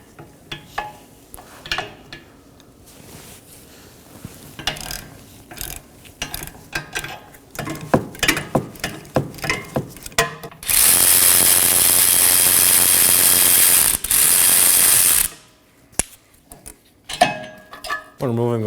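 A ratchet works on the 18mm rear brake caliper bracket bolts of a 2019-2024 Chevrolet Equinox, making a long run of close, rapid metallic clicks and pulls, then a loud sustained mechanical burst before more clicking.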